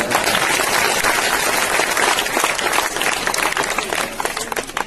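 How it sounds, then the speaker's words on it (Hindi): Audience at an RCM meeting hall applauding, a dense, steady wash of clapping with crowd noise that runs throughout. "एक बार मोहन जी सर के लिए तालियां बजा देंगे।"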